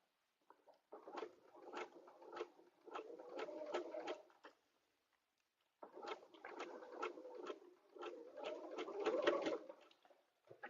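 A Spin-E-Fex 16 sewing machine stitches a vinyl zipper bag in two runs of rapid, even mechanical clatter separated by a short pause, heard close and on its own.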